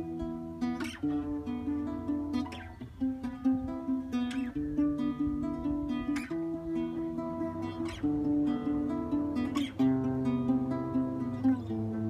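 Solo guitar picks a thumb 1 2 1 3 1 2 1 finger pattern, individual plucked notes rolling in a steady, repeating cycle, close and clear with no voices.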